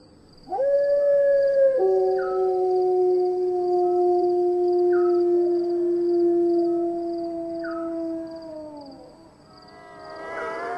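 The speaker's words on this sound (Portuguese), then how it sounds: "Quando a carruagem seguia, podíamos ouvir estranhos uivos." Howls ring out clearly in long, sustained wavering tones, with several voices overlapping, one sliding up and down over a quiet background.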